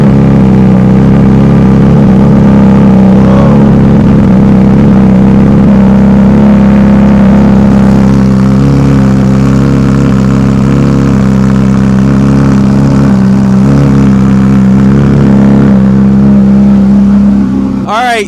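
A 2025 Honda CBR600RR fitted with an Austin Racing exhaust, running loud and close throughout with a steady deep engine note and repeated throttle blips and revs, and someone talking over it at times.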